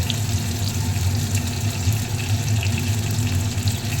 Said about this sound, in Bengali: ভেজে নেওয়ার জন্য আমি পটলগুলোকে আগে তেলের ওপর ছেড়ে দিলাম